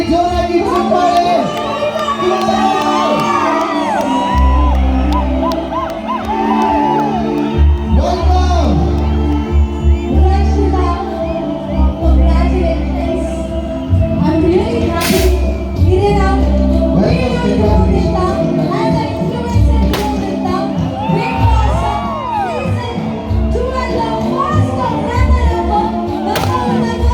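A crowd at a live stage event welcoming a reality-show runner-up cheers and whoops for nearly half a minute, its voices partly buried under loud, steady background music.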